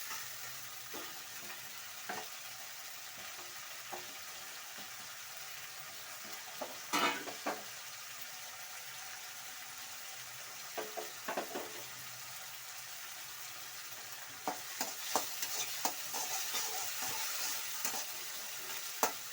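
Tomatoes with garlic-ginger paste fry in oil, a soft continuous sizzle with occasional spoon stirs and clinks against the pan, growing busier toward the end.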